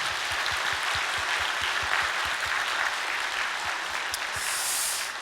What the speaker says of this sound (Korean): 우리 그분들에게 따뜻한 격려의 박수 좀 해주시기 바랍니다